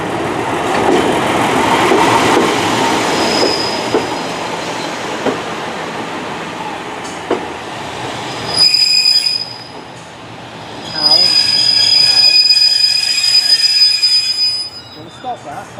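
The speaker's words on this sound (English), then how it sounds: "departing now is 143618, which is coming shining round on platform 2" A Class 143 diesel multiple unit, 143618, pulls out of Paignton station, its wheels squealing loudly in long high-pitched bursts over rumbling running noise, the squeal fading and returning as it rounds the curve.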